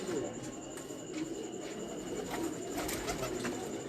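Racing pigeons coo softly in the background, faint and repeated beneath steady outdoor noise, with someone talking over them.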